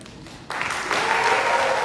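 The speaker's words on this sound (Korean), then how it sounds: "큰 박수와 환호성 속에 임윤찬이 시상대로 향합니다." Applause breaks out at the Gramophone awards ceremony as the young pianist Yunchan Lim is named winner for his Decca recording of Chopin's Etudes; a quiet moment gives way to a sudden, full, steady wash of clapping that swells further.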